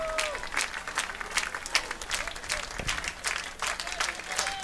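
Baseball fans in the stands at a Cape Cod league playoff game clap along in rhythm, with repeated bursts of crowd clapping over a background murmur, fairly distant and under the ballpark ambience.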